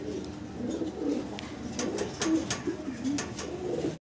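Fancy exhibition pigeons, including a large black checker pair, coo repeatedly at close range, a low rolling burble rising and falling continuously, with faint rustling and scattered clicks in the background.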